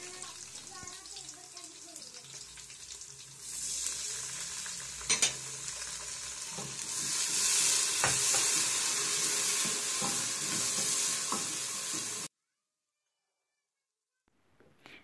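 Green chillies in sizzling mustard oil, with a splash of water just added for a potato and mongray curry, are stirred in a pan: a steady frying hiss with scraping stirs, growing louder midway, then abruptly cut to silence.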